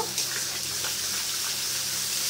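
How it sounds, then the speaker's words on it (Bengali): Chili and turmeric powder frying with a splash of water in a pan, a steady broadband sizzle with a soft watery hiss running continuously and alone, no voices. "লঙ্কা হলুদটাকে একটু কষিয়ে নেব"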